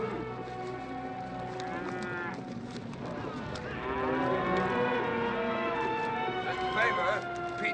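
A herd of cattle mooing repeatedly in a dry outdoor setting at night, overlapping bellows close and loud, with hooves shuffling beneath and speech mixed in.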